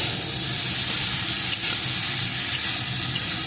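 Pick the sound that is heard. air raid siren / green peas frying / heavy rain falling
green peas frying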